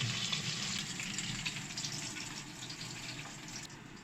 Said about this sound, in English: steak right back on and let it soak in a little bit of butter